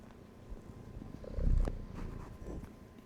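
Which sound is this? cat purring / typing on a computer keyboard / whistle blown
cat purring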